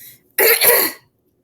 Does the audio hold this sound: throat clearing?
yes